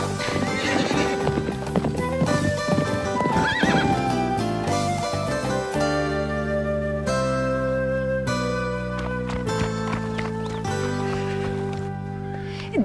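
A horse's hooves clip-clop steadily while it neighs and whinnies over a dense, continuous musical backing.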